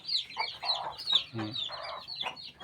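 Chickens kept together with ducks on a homestead farm cluck and squawk in short uneven bursts, close by, with brief overlapping calls.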